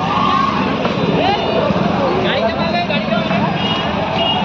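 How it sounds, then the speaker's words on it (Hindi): Cars and trucks sit in a jam on the Bhandara–Pawani road near Pahela, where fallen trees have blocked the way. Engines rumble steadily close by, with horn-like tones and the babble of people in the background. "traffic jam"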